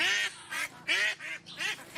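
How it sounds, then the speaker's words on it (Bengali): Four-month-old ducks at a duck farm quack in repeated bursts of loud, raspy calls with short gaps between them, close by and without talk. "এখানে চার মাস বয়সী হাঁস"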